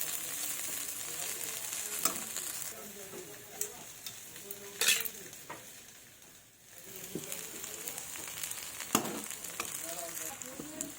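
A ground paste of dried red chilli, ginger, cumin and poppy seed fries in a pan while being stirred, making a continuous sizzle with spatula scrapes and clicks; a pigeon coos in the background and faint voices are audible.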